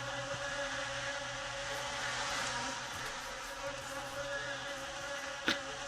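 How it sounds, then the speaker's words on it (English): Loud, continuous insect buzzing in the video game Guild Wars 2, a dense droning whine filling the whole stretch with slight swells and a brief sharp click near the end, no talking. "that is some loud ass buzzing"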